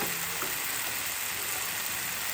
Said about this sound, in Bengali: আমার মশলাটা প্রায় কষানো হয়ে যাচ্ছে বন্ধুরা।